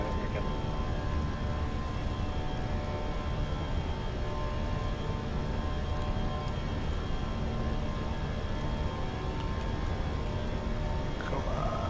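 Airbus A319 jet engines roaring at takeoff power in a flight simulator, a steady broad rumble with a whining tone, moderately loud and continuous throughout with no talk.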